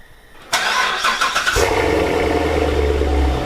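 Chevrolet Corvette C7 fitted with a Borla ATAK cat-back exhaust cold-starting on a chilly 27-degree morning: a starter whir, then a sudden loud engine catch that settles into a steady, throaty high idle, close by with no talking.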